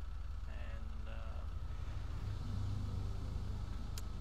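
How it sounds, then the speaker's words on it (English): An upgraded SUV off-roading in GTA V, its engine a low steady rumble with a rising drone, continuous and close, while someone talks over it. "we are gonna be off-roading with this SUV"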